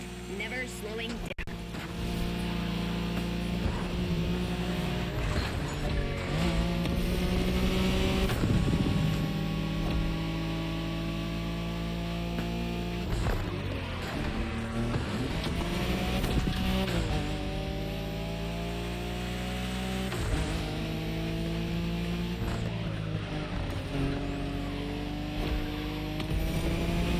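Nissan Skyline engine in The Crew Motorfest on a Tokyo Bayshore Wangan race, a sustained high-revving drone climbing and dropping through gear shifts, with a person talking over it much of the time.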